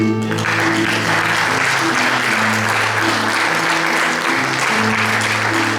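An audience at a book launch gives loud, sustained applause, dense clapping over steady background music with low sustained tones.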